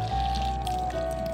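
Probiotic water pouring onto organic feed mixed with coconut pulp, a short steady trickling splash heard up close over a low background hum and a thin steady tone.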